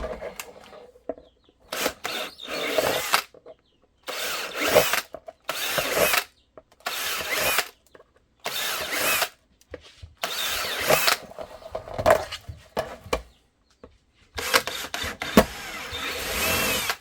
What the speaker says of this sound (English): drill all your holes